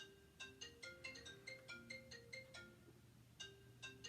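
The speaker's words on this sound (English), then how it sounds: "I'm going to wait for my phone to shut up." A phone rings repeatedly in a steady, melodic ringtone pattern of bright tonal bursts, fairly loud and close, with a low hum underneath and no talking.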